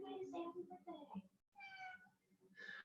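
A house cat meows several times close by, a string of short varied mews followed by a longer, rising cry and another at the end, with people talking quietly around it.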